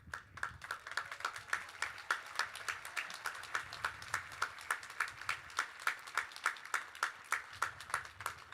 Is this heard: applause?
yes